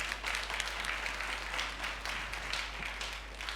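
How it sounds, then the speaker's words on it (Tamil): A church congregation claps steadily through the whole stretch, a dense, even wash of hand claps at moderate loudness with no speech over it. "நல்ல கைத்தட்டி சொல்லு."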